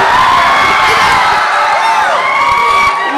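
A large audience at an Assamese Amguri cultural function, 2025, claps and cheers loudly and steadily for a special guest, with whoops and shouts rising from the crowd throughout.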